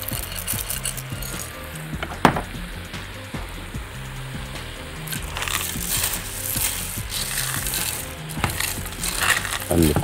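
Dry pasta tipped into a hot pan for chicken fajita pasta, giving a close crackling sizzle with clattering pieces and a sharp crunch near the start, then stirring and more rustling bursts over a steady low hum.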